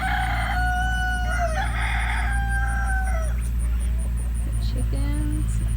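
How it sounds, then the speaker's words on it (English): Several roosters crow one after another amid a noisy farmyard, with clucking chickens and other birds in the background; the crows are loud and overlapping. "You hear all the roosters."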